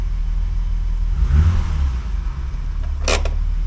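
The engine of a 1985 BMW 635 CSI runs steadily nearby with a low rumble, swelling briefly as if revved, with a short sharp squeak near the end and no talking.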